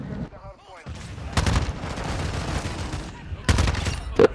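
Rapid bursts of Call of Duty gunfire, loud heavy shots and clattering volleys in quick clusters, with game noise and a voice talking between the blasts.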